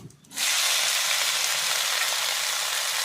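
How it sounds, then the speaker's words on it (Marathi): Cucumber amboli batter hits a hot griddle and breaks into a sudden, loud, steady sizzling hiss that carries on evenly, close up and alone. "तवा चांगला गरम झाल्यानंतरच आंबोळी घालायची आहे नाहीतर आंबोळी उठत नाही"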